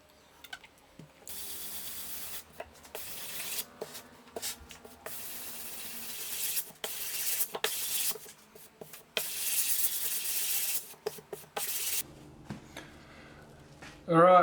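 Fine-grit sandpaper worked over the back of a Pit Bull Guitars ST-1 kit guitar body, heard as close, irregular bursts of raspy scrubbing strokes separated by short pauses.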